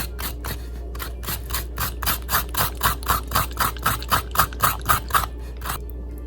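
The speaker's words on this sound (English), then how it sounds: "use a nit comb or any fine-toothed comb to scrape the flesh out of the leaf" A fine-toothed nit comb is dragged through aloe vera leaf flesh to scrape it out: a close series of about a dozen crisp, rhythmic rasping strokes that speed up slightly and stop, with no talking.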